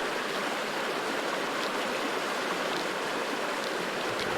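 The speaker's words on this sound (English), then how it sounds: "So I want the waterfall, the sound effects to be totally overpowering." A virtual waterfall in the Second Life online world pours as a constant, dense rushing hiss, loud and unbroken with no voices.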